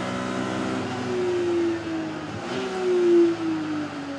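A Thunder Saloon race car rounds the final corner at Silverstone International, its engine droning steadily nearby with a rising, falling pitch as it passes under load.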